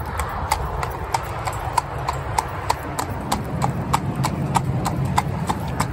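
Horse hooves clip-clop on a road in a steady trot rhythm, crisp and fairly near, with a rider's voice and low background rumble.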